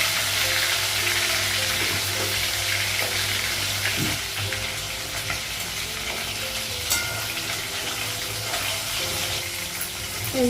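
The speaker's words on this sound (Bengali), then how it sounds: "মাছটা ভাজা হয়ে গেছে দিয়ে করলাম আর আরও মাছ লাগিয়ে" Fish fries in a pan on a gas stove, giving a loud, dense, continuous sizzle close up. A few faint knocks and scrapes sit under it, and no one talks.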